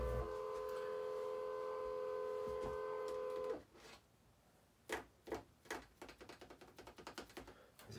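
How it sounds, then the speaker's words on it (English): A badminton stringing machine's hydraulics raise and lower it while a Yonex Nextage racquet is restrung, giving a steady, close motor whine that cuts off, then a scatter of light clicks and taps. "So this machine moves up and down, as you're seeing."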